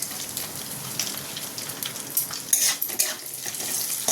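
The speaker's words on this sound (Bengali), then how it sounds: "জিরেটা ভাজা ভাজা হয়ে যাবে হয়ে গেলে এর মধ্যে দিয়ে দেবো কুচিয়ে রাখা কাজু আর কিশমিশ" Whole cumin seeds with chopped cashews and raisins frying in a pan, giving a dense, steady crackling sizzle with small bursts of spatter, close and fairly loud throughout.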